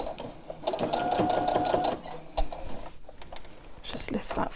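A sewing machine stitches bulky fabric for a memory bear in short rapid bursts of mechanical clatter, and a voice talks over part of it.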